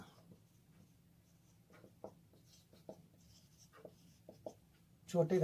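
Pen or chalk writes out a class 8 mensuration math solution in short scratchy strokes, quiet and close, with pauses between bursts and a low hum underneath.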